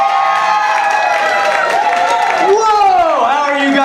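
A stand-up comedy crowd cheers, whoops and applauds as the comedian Lukas Arnold comes on stage, a dense sustained roar of voices and clapping that fills the room throughout.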